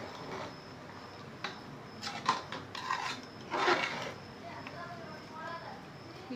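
Rice is stirred into mutton biryani in a cooking pot, giving soft scraping and rubbing with a few light clinks, quiet and close, while someone talks over it.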